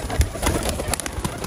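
Pigeons feeding on scattered grain, giving soft low coos among quick, close pecking taps and rustles in a short burst.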